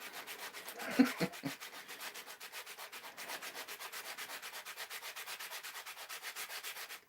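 Wood being sanded by hand in long strokes along the grain, a steady rhythmic rubbing scrape repeating about twice a second, close and moderately loud, with a couple of brief knocks near the start.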